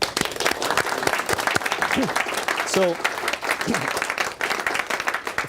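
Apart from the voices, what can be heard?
audience applause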